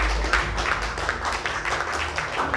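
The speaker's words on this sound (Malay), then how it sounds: "Berikan tepukan kepada Chef Jero." Studio audience applause for Chef Jero on a televised cooking competition set, a steady wash of many hands clapping throughout at moderate loudness.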